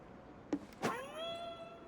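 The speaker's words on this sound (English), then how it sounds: "those meow sounds are the like collectibles being in the room" In a Japanese horror video game, a collectible item gives a single short, rising cat meow that trails off, fairly faint and heard alone after a brief click.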